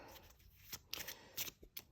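A deck of cards being shuffled for a fantasy and science fiction reading game, heard as several quick, quiet riffling bursts with brief gaps between them and no talking.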